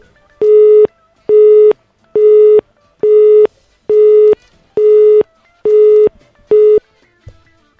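Eight evenly spaced beeps of a telephone busy tone ring out loud and steady on a phone-in call to a morning radio talk show, each burst lasting about half a second with brief gaps between.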